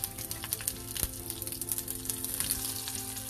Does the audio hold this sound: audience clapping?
no